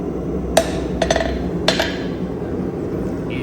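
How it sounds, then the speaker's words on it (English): A hammer tapping a rivet on forged blacksmith tongs gives four sharp metallic strikes, one then a quick pair then one, close and clear over a low workshop hum. "Mine's got a little bit of rattle in it, so just give it a few more taps."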